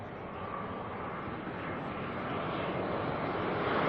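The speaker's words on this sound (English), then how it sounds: "Next arrival coming in is NZ412 from Wellington. In New Zealand A320." An Air New Zealand A320 arriving from Wellington lands at Auckland Airport, its engines a steady broadband roar that grows slowly louder over a few seconds, with no voices.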